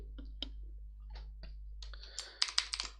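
Scattered keystrokes tap on a computer keyboard while a command is entered, sparse soft clicks at first, then a quick cluster of sharper, louder key presses at the end, close and clear over a faint steady hum.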